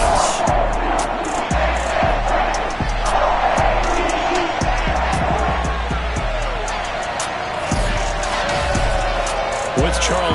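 Stadium crowd in Madden NFL football video game at a Baltimore Ravens home game against the New York Giants, a loud, steady roar of cheering with thumping beats beneath it, continuing throughout.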